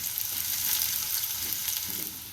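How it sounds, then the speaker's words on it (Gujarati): Garlic cloves fry in oil, giving a steady close crackling sizzle that holds for a couple of seconds and fades slightly at the end. "આને હવે સારી રીતના તેલમાં સળવા દેશું। સારી સળી જાય ત્યાં સુધી સળવા દેશું।"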